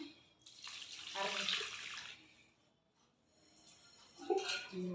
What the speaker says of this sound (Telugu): ఇదిగోనండి వాటర్ పోస్తున్నాను